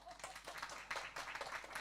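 Audience clapping at a seminar, quiet scattered handclaps from a group, steady and somewhat distant, with faint voices underneath.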